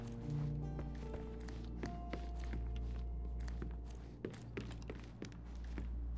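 Muffled footsteps thud overhead in an attic above the room in the Sherlock Holmes: Chapter One game, a run of soft, uneven steps under a low droning ambient hum.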